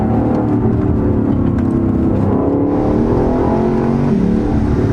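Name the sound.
2018 Lexus LC 500 engine note while driving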